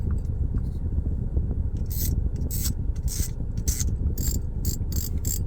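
A Shimano Stella SW4000HG saltwater spinning reel is cranked close up, a smooth soft mechanical whirr with bursts of fine rasping clicks from the turning gears.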